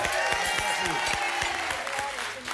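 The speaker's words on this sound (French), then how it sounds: "On applaudit François" Studio audience applause on a French television entertainment show, a dense, loud wash of clapping with talk and laughter mixed in throughout.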